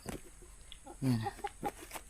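A chicken clucks a few short times nearby, soft and irregular, over light background noise.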